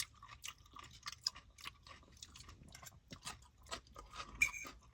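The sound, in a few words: chewing a crunchy BLT sandwich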